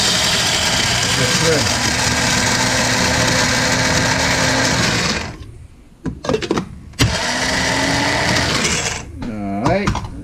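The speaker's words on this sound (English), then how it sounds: "Let's grind up the ground pork," An electric grinder whirs loudly and steadily for about five seconds while grinding ground pork for a bitter melon soup stuffing, then cuts off, followed by brief talk and a short second burst of the motor.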